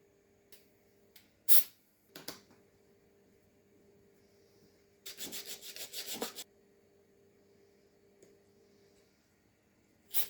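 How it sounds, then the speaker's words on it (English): Bevel gears for a homemade lathe are sanded by hand in a quiet workshop, with short rasping rubs, a longer burst of rapid back-and-forth scratching midway, and a few light knocks between strokes. "The bevel gears on the ring may need a bit of sanding"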